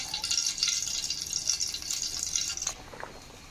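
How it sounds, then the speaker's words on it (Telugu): Cooking oil pours in a steady stream into a kadai on the stove, ready for deep frying, running for a few seconds before cutting off and leaving a few faint drips. "స్టవ్ పై కడాయి పెట్టుకుని డీప్ ఫ్రై సరిపడగా ఆయిల్ వేసుకుందాం"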